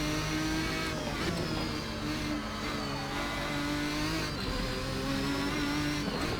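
Ferrari 550 GTS GT1 race car in a racing game on the Nordschleife, its front-mounted engine droning loud and steady with shifting revs and gear changes throughout, with no talk over it.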